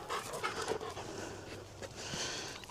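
A dog pants steadily at close range during obedience training for the heel command, quick rhythmic breaths running throughout without any talking.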